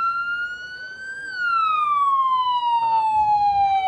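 A video game police car siren from Flashing Lights sweeps slowly up and then down in a steady wail, clear and fairly loud, with faint background noise beneath it.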